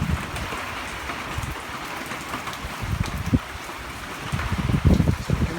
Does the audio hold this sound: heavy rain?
yes